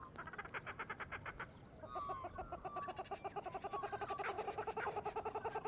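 Kookaburra calls from a video game trailer ring out as a long, rhythmic run of cackling, chattering bursts that build steadily in volume. Other bird calls are layered under the chorus.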